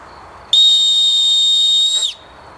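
A homemade wooden whistle gives a single shrill, steady blast, holding one high pitch for about a second and a half, then cutting off with a slight downward slide.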